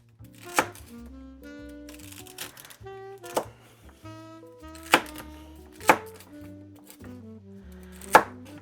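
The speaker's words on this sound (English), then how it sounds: "now how do I dice up the celery? Like this?" Celery diced on a cutting board, a few sharp knife chops landing at uneven intervals over steady background music.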